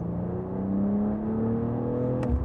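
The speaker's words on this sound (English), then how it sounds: "you just hear the exhaust the entire time, and like you can feel the car very well" A 2025 BMW M440i xDrive Coupé in Sport Plus accelerates with a steady, moderately loud exhaust drone that climbs in pitch as it gains speed, heard from inside the car with no talking.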